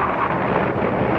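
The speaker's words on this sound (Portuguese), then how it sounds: "vento, né? Condições do vento." Wind rushing past during a flight above a distant beach: a loud, steady roar and buffeting against the microphone, with no voices over it.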